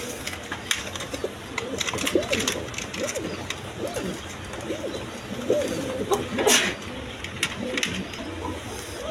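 A pair of Rajgolla pigeons, one sitting on two eggs, coo repeatedly in soft, looping phrases, close by over a light hiss with occasional faint clicks.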